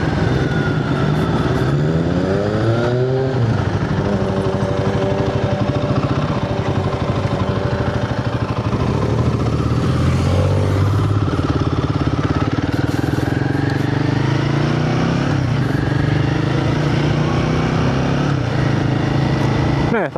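Royal Enfield Guerrilla 450 motorcycle on a short test ride, its engine droning loud and close throughout with rising and falling revs through gear changes, while a rider talks over it.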